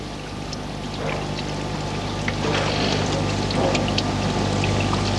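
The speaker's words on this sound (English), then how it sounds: "Next, it's washed in cold running water." Cold running water washing steel strip on a plating line, a steady pouring and trickling rush under a constant mechanical hum.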